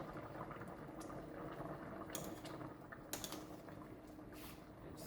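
Jamaican stew peas simmering in a pot, a faint, steady bubbling with a few soft clinks and knocks over the top.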